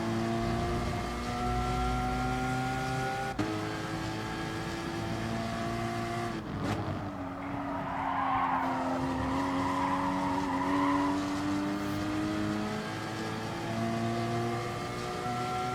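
A Porsche Cayman Gr.4 races at Laguna Seca in Gran Turismo Sport, its engine a sustained, rising and falling whine that dips as the car shifts, with a burst of tire squeal through a corner midway.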